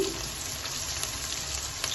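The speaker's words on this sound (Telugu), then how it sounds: "బ్రౌనిష్ వచ్చినంత వరకు వేయించుకోవాలి అల్లం వెల్లుల్లి పేస్ట్ని" Ginger garlic paste frying in hot oil for chicken pickle gives a close, continuous, even sizzle with fine crackles and no voices.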